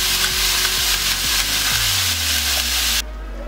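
Ground beef sizzles steadily in a hot pan while a utensil scrapes and breaks it apart. The frying is loud and close, with no voices.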